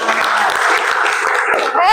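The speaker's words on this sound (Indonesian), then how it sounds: "Tepuk tangan untuk kalian semua." Classroom applause from a group of students, a dense burst of clapping lasting a couple of seconds at close range.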